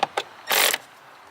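A hand ratchet working 8mm bolts on the airbox of a Cummins engine: a few quick clicks followed by a longer, louder rasping ratchet stroke, close by and alone.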